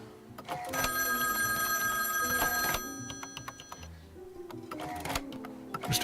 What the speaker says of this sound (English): Midge, answer the phone for me.